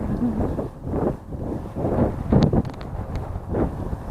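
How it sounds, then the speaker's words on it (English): Gusty wind buffets a microphone outdoors at an RC plane flying session with an FT Baron, coming in loud rumbling surges and brief lulls with no voices. "that wind has definitely got up"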